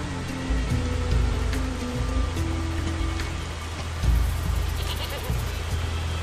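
Several goats bleat over a steady rain-like wash in the video game Far Cry 6, with louder cries near the start and again around the four-second mark.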